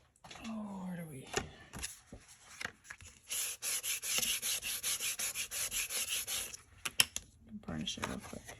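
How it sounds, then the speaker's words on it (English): A paper card is burnished with quick, rhythmic rubbing strokes, a dry scraping series close by, with a voice speaking briefly before and after. "Burnish it real quick."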